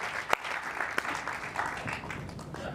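Congregation at a French-language church service clapping hands, a spread of uneven claps with a few sharp louder ones standing out over a low murmuring background.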